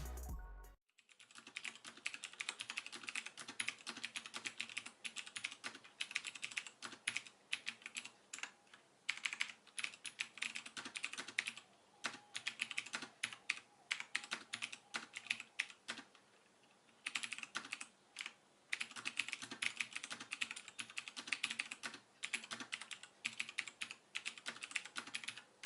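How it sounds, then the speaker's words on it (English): A budget Cherry MX Blue mechanical keyboard, the TVSe Bharat Gold, clatters under fast continuous typing, each key giving a crisp tactile click in dense close bursts with brief pauses and no voice. "you guys can enjoy the clicky tactile sound of the keys"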